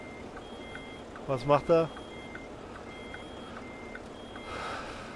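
Truck reversing beeps in the video game American Truck Simulator, a steady series of faint, evenly spaced electronic tones under engine hum, with someone speaking briefly partway through.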